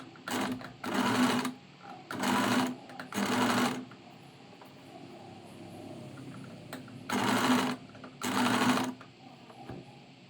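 A sewing machine stitches a neck facing onto a kurti in close, loud bursts of rapid stitching, five runs separated by quiet pauses.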